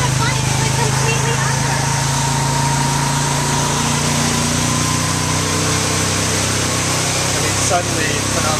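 A tuk-tuk's small engine runs steadily through a rainy night in flooded Phnom Penh streets, its buzzing drone continuous under a dense wash of rain and traffic noise, with a voice talking throughout.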